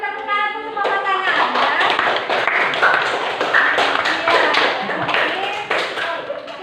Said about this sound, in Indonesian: Kita beri tepuk tangan untuk semua pasangan.